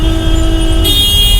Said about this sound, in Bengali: হর্ন বাজেন বেশ করি পয়সা লাগতো না বাজাইন